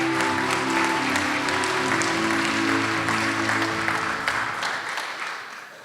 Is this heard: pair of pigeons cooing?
no